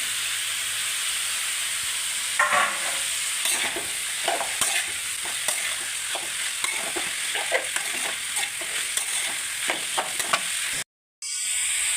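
Green chillies, beans and other vegetables fry in an oil-filled pan for vegetable biryani, a steady bright sizzle with scraping stirs breaking through now and then, before a brief cut to near silence.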